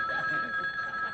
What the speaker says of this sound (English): They're calling you on the telephone.